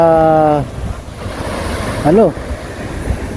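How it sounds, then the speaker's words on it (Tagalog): Strong ocean waves at the shore in Jeongdongjin, South Korea, heard as a constant roaring wash with wind buffeting the microphone, while voices call out briefly over it. "So lumakas yung alon ano."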